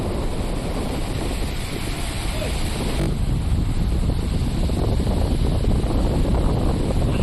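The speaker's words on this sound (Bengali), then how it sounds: "প্রচণ্ড হাওয়া এই মুহূর্তে" Strong wind from a sudden storm with rain, a loud constant rushing roar buffeting the microphone, growing rougher and heavier after a few seconds, with no clear voices over it.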